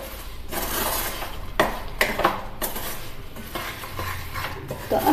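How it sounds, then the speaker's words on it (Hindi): A spoon stirs caramelized jaggery makhana with dry fruits in a pan, giving soft scraping and clinks with a few sharper knocks against the metal, close up and continuous. "अब हम इनको लगातार चलाते हुए अच्छे से मिक्स करना है"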